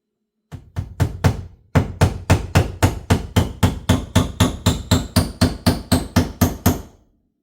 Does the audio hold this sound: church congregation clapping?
no